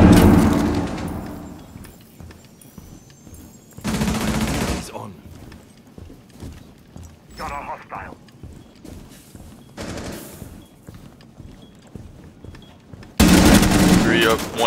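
Bursts of automatic gunfire from the video game Rainbow Six Siege crack out in several loud separate volleys with quieter gaps between them, while players talk faintly in the background.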